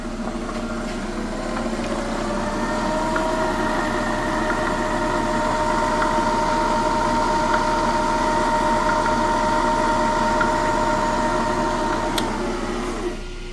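A metal lathe runs in back gear and in reverse while refacing a big-block Chevy valve, giving a steady, fairly loud mechanical whir with a rising tonal whine that holds and then fades near the end.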